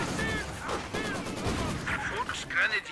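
Maxim machine gun fire in the World War II strategy game Company of Heroes 2, heard as dense overlapping bursts of gunfire and battle noise throughout, with someone talking over the shooting.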